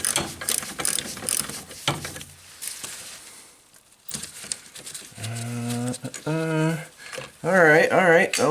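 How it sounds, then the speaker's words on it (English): Ratchet wrench loosening a bolt near the alternator and windshield washer neck of an Acura TSX, heard as bursts of close clicking early on, followed by tonal squeaky sounds and some voice. "Get this bolt loose."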